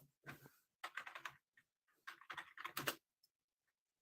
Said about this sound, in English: I'm getting on his computer, typing it in.